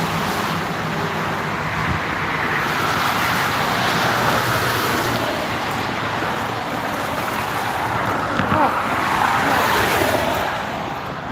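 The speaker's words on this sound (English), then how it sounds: "I believe these cars are going a little fast" Cars speeding along a road below a snowy overpass, a continuous loud wash of tire and engine noise with passing swells, heard from above in winter conditions.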